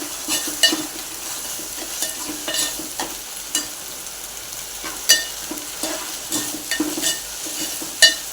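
Ground masala paste sautéing in oil with cooked tomatoes for a sprouted moong sabzi, a steady close sizzle broken by repeated sharp scrapes and clinks of a spoon stirring the pan, with no talking.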